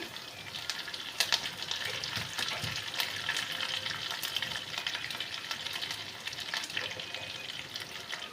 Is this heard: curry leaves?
yes